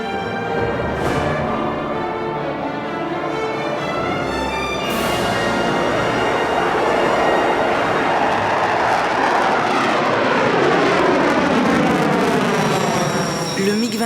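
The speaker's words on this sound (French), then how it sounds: "Le MiG-21, avion emblématique de la guerre froide" A MiG-21 fighter jet roars loudly and continuously, its pitch sweeping and shifting as it passes, with a strong rumbling low end throughout.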